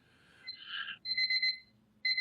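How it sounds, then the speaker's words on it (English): Electronic beeping in short bursts: a warbling tone, then three sharp paired beeps in quick succession, and another beep starting after a pause. "Here comes that beeping."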